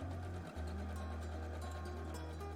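A sewing machine runs steadily while stitching the first pass of a French seam, fabric wrong sides together; a continuous close motor hum with a brief dip near the half-second mark, no talking.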